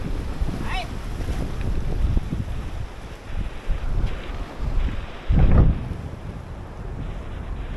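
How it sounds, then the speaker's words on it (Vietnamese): Strong wind gusting over seaside rocks on a Son Tra sea-fishing trip, a steady loud roar buffeting the microphone with a sharper gust near the end. "Ở trong này cũng gió ghê lắm."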